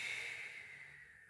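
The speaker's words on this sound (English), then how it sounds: "So inhale up, exhale, inhale." Soft breathing during a Pilates mobility exercise: a faint airy breath that fades out, heard close and quiet with no talk.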